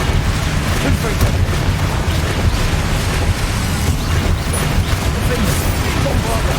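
Confringo fire spell blasts in the Hogwarts Legacy video game: a dense, continuous roar of booming explosions and crackling bursts, loud and close throughout, with battle noise layered over it.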